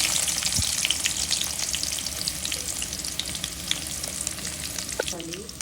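Garlic and onion frying in hot oil, a dense, loud, continuous sizzle with crackling spits throughout and occasional stirring.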